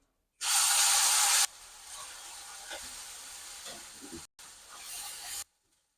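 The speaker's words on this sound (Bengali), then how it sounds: "ফোড়নে দিয়ে দেবো কালো সর্ষে আর জিরা, দেবো ধুয়ে রাখা কারি পাতাটা" Black mustard seeds, cumin and washed curry leaves hit hot tempering oil with a loud, bright sizzle, easing to a steady crackling hiss that cuts off briefly and flares again before stopping.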